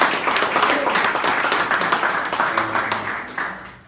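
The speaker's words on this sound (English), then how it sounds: "Let's give them a round of applause for that." Audience applause for new company chairmen at a financial empowerment event, a burst of many people clapping with some voices mixed in, tapering off over the final second.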